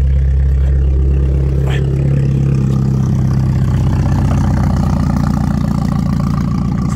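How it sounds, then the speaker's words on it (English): BMW Mini JCW Competition Pack with a JCW Pro exhaust idling after a cold start, a loud, steady low rumble heard close up throughout with a slight drop in level partway through. "the cold start, it's not that bad, a little bit loud, but then it settles down"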